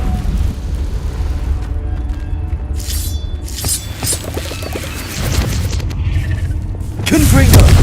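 Magical blasts and crashes from the Confringo fire spell in Hogwarts Legacy, a series of booming impacts with debris under a dense, loud game soundscape, ending in a heavy low rumble.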